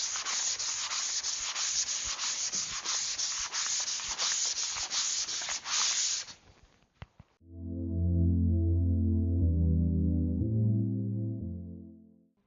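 Hand sanding keys a roof surface before a semi-flexible solar panel is glued on: about six seconds of steady, close, scratchy rubbing strokes, then a short pause and a sustained tonal hum.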